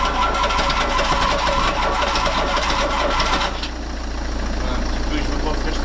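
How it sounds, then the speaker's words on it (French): Citroën CX Pallas 2.5D diesel engine cranking on its starter, a steady loud churning that drops to a lower, quieter running tone partway through, with a voice over it. "Je veux pas faire trop chauffer mon démarreur."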